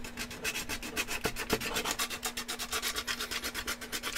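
A solid metal file pushed by hand across a surface in steady, even rasping strokes, close and fairly quiet, with no talking.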